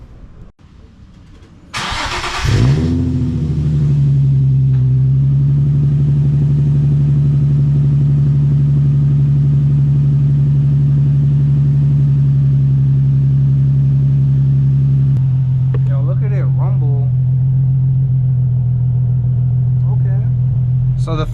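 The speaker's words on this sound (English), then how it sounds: "Let's hear that cold start." A Nissan 350Z fitted with an ISR exhaust cold-starts with a sharp crank and catch, then settles into a loud, steady, deep high idle that holds close and unbroken, with a slight drop in pitch partway through.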